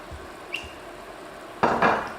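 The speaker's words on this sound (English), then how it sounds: "We're going to go ahead and pour some of this brandy in." Brandy splashes into a hot pan used for searing steak, a sudden loud burst of sizzling and pouring that swells twice near the end after a few small clinks of cookware.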